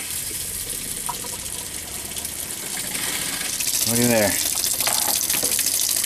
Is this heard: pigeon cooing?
no